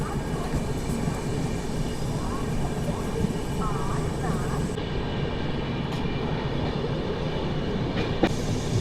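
The Godavari SF Express pulling away from Annavaram station, a steady rumbling rail roar with faint rhythmic clatter from inside the moving coaches, and a voice speaking over it.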